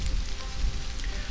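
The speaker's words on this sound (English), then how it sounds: "Rita's out here in the rain" Steady rainfall in the survival game Stranded: Alien Dawn, a continuous broadband hiss of drops on surfaces with low rumbling underneath, moderately loud and unbroken, with no voices.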